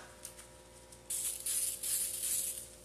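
An aerosol can sprays onto a book backing in short hissing bursts, close and fairly loud, with three or four pulses in quick succession and no talk.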